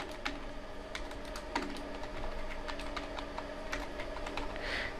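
Typing on a computer keyboard, quick irregular key clicks close up, some taps landing harder, continuing without a pause.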